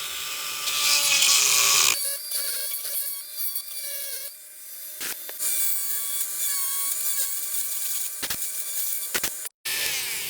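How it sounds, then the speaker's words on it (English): A Dremel Multi-Max oscillating tool with 80-grit sandpaper grinds at a crack in a steering wheel, a loud close buzzing whine that rises and falls in pitch as pressure changes, with brief cut-outs near the end. "This is my Dremel Multi-Max. Got an 80 grit."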